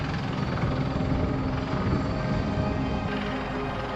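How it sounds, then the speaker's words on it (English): A CH-53E Super Stallion heavy military helicopter roars steadily and loudly throughout, with its dense rotor and turbine drone unbroken and no voices. "Meet the CH-53E Super Stallion, the heaviest helicopter in the United States military."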